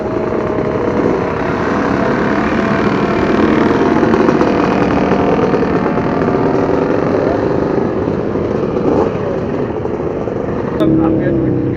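Several vintage motocross dirt bike engines drone and idle steadily at a Glen Helen vintage race meet, a dense continuous mechanical rumble with voices talking over it.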